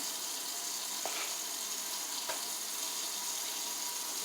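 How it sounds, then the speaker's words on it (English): Teriyaki sauce with shrimp heating toward a boil in a pan, giving a steady, even sizzle and bubbling hiss with a couple of faint clicks, no voices. "So for right now, we're just going to bring that to a boil."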